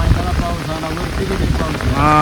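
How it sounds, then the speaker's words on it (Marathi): Heavy rain pours down outdoors near a flock of sheep, a loud, steady roar of drops that swells toward the end, with people talking over it. "अजून पाऊस वाढला काय होतं आईला. आता जोरात वाढला मित्रांनो."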